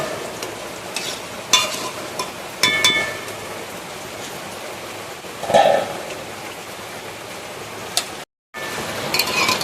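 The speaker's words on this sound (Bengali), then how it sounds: "তরকারিটা ঢেলে নেব।" Thick cooked banana flower curry with raw chickpeas scraped and poured from a pan, giving scattered soft clinks, scrapes and wet plops over a steady hiss, with one brief gap near the end.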